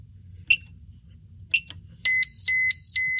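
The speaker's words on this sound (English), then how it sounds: "Okay, so now we have the alarm because I went from 12 volts to that." An XGuard Plus V3 alarm unit sounds after its supply is changed from 12 volts: two short high electronic chirps, then a loud continuous pulsing tonal alarm that switches between two pitches, close and clear with no talking.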